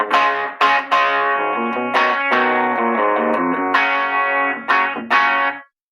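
Electric guitar chords through a slightly gritty VOX 50-watt amp set on the verge of breakup, mostly clean with a touch of crunch when strummed harder, several strums ringing out in sequence.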